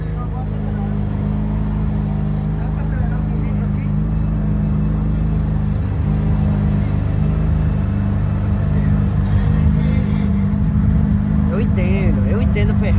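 A Ferrari engine idles and warms up with a steady, loud low rumble, close by and constant, while voices chat over it.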